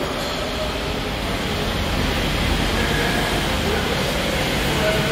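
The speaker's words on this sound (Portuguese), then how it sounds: "Tem uns trens gigantes aqui," Steady, loud rumbling roar of a passing train, broadband and continuous, with faint metallic squeals on top and no pauses.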